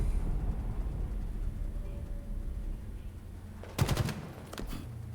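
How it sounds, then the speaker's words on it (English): Automatic weapon fire in a shooter video game, heard as a short loud burst of shots near the end, followed by a few more fainter shots under a steady low rumble of background noise. "I don't want to take fire from that automatic"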